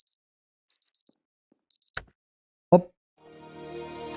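Alarm clock in the video game Superliminal, a few quick high electronic beeps in short bursts, then a couple of sharp clicks and a low rising rumble, quiet overall.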